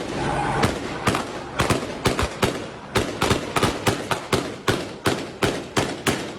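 A rapid series of sharp gunshots, about a dozen loud cracks in quick irregular succession, close by, with faint background noise between them.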